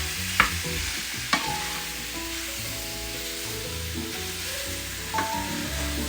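Vegetables and chicken for a Thai yellow curry cook in a pan with a steady, quiet sizzle, broken by a few sharp clacks of a utensil stirring against the pan.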